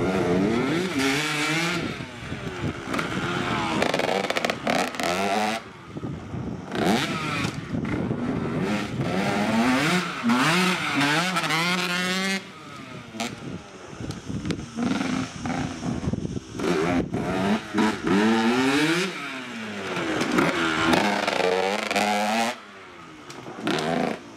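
A 2013 KTM 125 SX dirt bike engine revs repeatedly, rising and falling in pitch with bursts of throttle, loud and close throughout.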